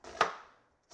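A single crisp knife chop through squash on a cutting board, a sharp close cut that fades out quickly, with the start of another cut at the very end.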